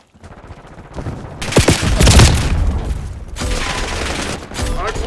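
Frag grenade in Black Ops 6, a heavy blast and rumbling burst amid rattling gunfire in a chaotic firefight, loud and close, then continuing gunshots trailing off.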